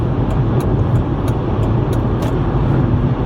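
A car cruises at speed on a freeway at night, a steady low road roar and tire rumble filling the cabin, with a few faint ticks over the constant drone.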